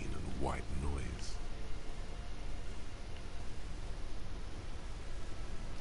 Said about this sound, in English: you think you hear a man's voice in the background. It's covered in pain and white noise